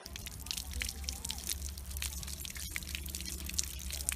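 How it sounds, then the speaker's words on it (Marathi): Water runs steadily from a tap over hands being wet for handwashing, a close, continuous splashing and dripping wash with no voices over it. "तर सुरुवातीला आपला हात पाण्याने ओला करून घ्या."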